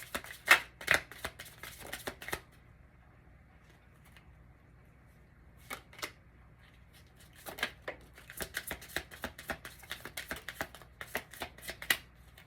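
Tarot cards are shuffled in quick, crisp riffling bursts between quiet pauses, with several rapid clusters near the start and again toward the end, and soft cooing birds in the background.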